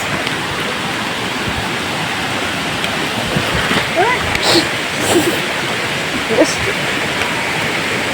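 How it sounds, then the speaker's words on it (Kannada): A waterfall on the trail at Kodachadri roars steadily in a dense, constant wash of rushing water, near and loud, with faint voices now and then under it. "ಇಲ್ಲೊಂದು ಫಾಲ್ಸ್ ಐತೆ ನೋಡಿ ಗೈಸ್"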